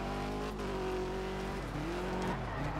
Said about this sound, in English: That was a no handbrake drift there.